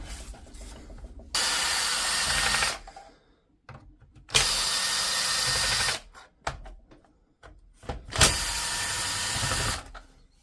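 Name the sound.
power tool removing screws from a DeWalt DCS391 saw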